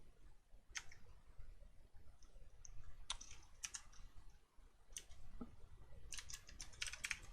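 Python code being typed on a computer keyboard, heard as quiet, irregular bursts of key clicks and taps with short pauses between runs, close up with no talking.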